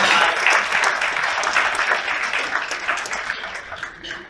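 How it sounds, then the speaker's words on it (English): Audience applause at a 2019 human trafficking conference, a burst of many hands clapping that starts loud and gradually thins and fades away, with no talking over it. "Please give them a hand of applause."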